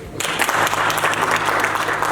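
Audience applause at a business summit launch event in Dubai, sustained dense clapping from a large crowd, loud and continuous after a brief quieter start, with a faint voice underneath.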